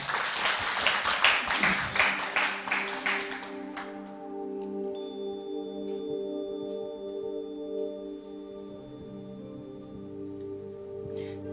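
An audience at a poetry talk claps to welcome the poet, a burst of lively applause for about four seconds that then stops, leaving soft sustained musical tones ringing underneath.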